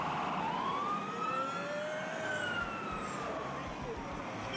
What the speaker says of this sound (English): There goes the ambulance.